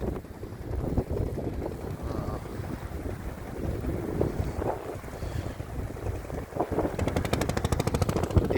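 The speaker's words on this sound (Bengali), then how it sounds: "দেখতে পাচ্ছেন নৌকাটি এখন মুক্তারিয়া ঘাটের উদ্দেশ্যে যাচ্ছে ছোট্ট একটি জেটি ছোট্ট একটি ঘাট" A boat on open water near Nijhum Dwip heads toward a small jetty at Muktaria ghat, with a steady rumble of motion and water wash under constant heavy wind buffeting, loud and unbroken throughout.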